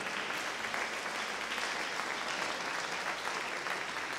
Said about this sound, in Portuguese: Dê mais um aplauso. Aplauda, é para Jesus